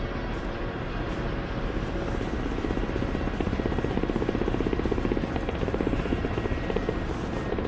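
A helicopter in a military video game flies close and loud with a steady rotor thump and engine whine, the rotor pulse sharpening toward the end; no talk.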